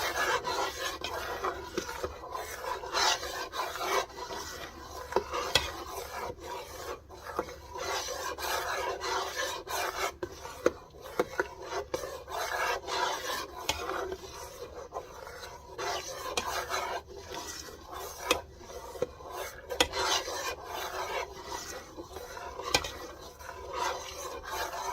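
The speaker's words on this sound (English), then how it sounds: "Get that all stirred up." Spoon stirring a cranberry, raspberry and habanero jam mixture with added pectin, a steady scraping, rubbing sound that continues throughout without any talk.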